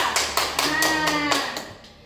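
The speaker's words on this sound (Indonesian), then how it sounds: "Tepuk tangan dulu untuk kita." A small group, likely schoolchildren in a special-needs classroom, claps together for about two seconds, with a tonal voice or hum running underneath and the claps staying fairly close and steady.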